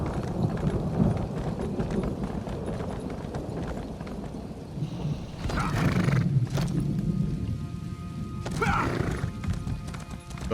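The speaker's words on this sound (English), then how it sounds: "I'm riding a horse on a tree" Hooves clip-clop in a rapid galloping rhythm in a video game, broken by two loud whinnying neighs, with a rumbling background throughout.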